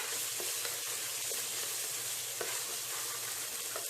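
Ginger garlic paste sautéing in oil for mutton thakkadi, a soft continuous sizzle with occasional faint stirring scrapes, no voices.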